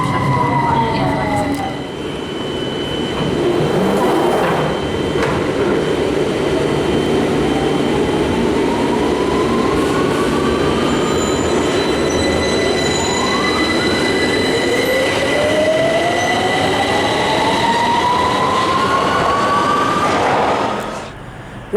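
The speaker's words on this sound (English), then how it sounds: "I'm now at Euston Station, the terminus of the West Coast Main Line" Trains move through London Euston Station, the West Coast Main Line terminus, with loud continuous rumbling, rising and falling wheel squeals and a distant horn-like tone across a long, busy stretch.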